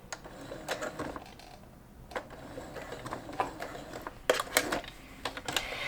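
A sewing machine runs a back stitch in short, close bursts of rapid mechanical clatter, stopping and starting with brief pauses between runs.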